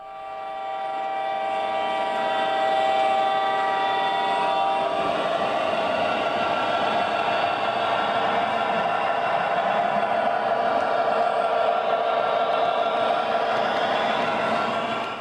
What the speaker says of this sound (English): this eastbound Southern Pacific freight starts slowly down the hill